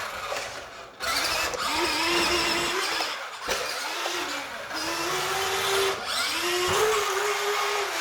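A Radioshack 4WD RC car's electric motor whines and revs in rising bursts as it is pushed for a wheelie, loud and close with brief drops between runs.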